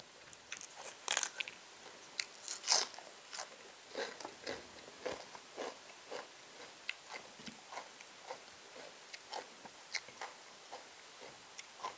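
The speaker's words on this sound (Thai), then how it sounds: "ยายที่มากินผัก" An elderly woman eating a meal of cooked beef larb heaped with fresh vegetables, chewing and crunching with a steady run of short, faint bites and clicks up close, no talking.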